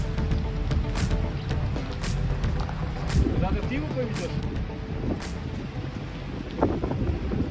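Steady wind roars and buffets the microphone throughout at a shop building site, with a few faint knocks and creaks underneath.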